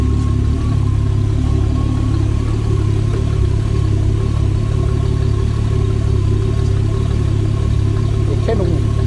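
A turbocharged VR6 engine in a Golf 3 runs steadily on its first start, a loud continuous idle with a low throb that holds without big revs, while people talk in German nearby.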